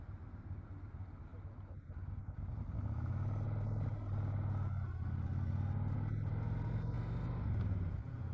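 A car's exhaust rumbles through a standard pipe with a deep, throaty tone, holding steady and close and growing slightly louder partway through.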